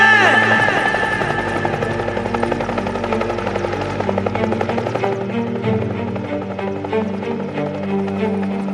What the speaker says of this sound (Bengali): স্যার হেলিকপ্টার আসছে স্যার, হেলিকপ্টার আসছে স্যার।